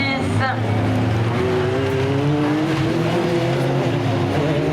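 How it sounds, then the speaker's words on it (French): A Mini Cooper and a Peugeot 206 race together in a touring car event, their engines revving and shifting up through the gears close by, while a commentator talks over the engine noise. "la bagarre derrière entre Samuel Denis et Thibaut Deluret qui pointe le bout de la Mini Cooper face à la Peugeot 206"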